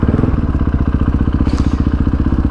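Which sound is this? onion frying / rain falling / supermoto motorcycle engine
supermoto motorcycle engine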